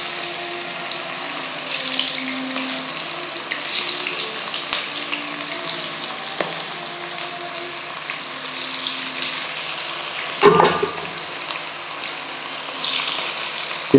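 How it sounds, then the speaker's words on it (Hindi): Chicken pieces deep-frying in hot oil on a second fry for extra crispness, a loud, steady sizzle throughout with one sharp clatter near the end. "इनको हम एक्स्ट्रा क्रिस्पी करने के लिए 1 मरतबा और फ्राई करें।"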